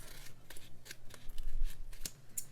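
Scissors trimming a sheet of lettering stickers, several quiet, close snips and paper rustles in an uneven rhythm, with no speech.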